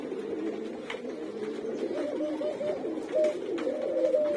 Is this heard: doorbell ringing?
no